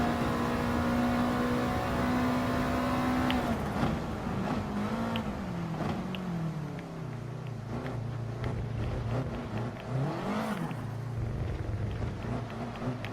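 A Gr.3 race car in Gran Turismo Sport holds a steady engine drone, then climbs and drops through rising and falling revs as the throttle opens. It stays loud and close throughout with no talking.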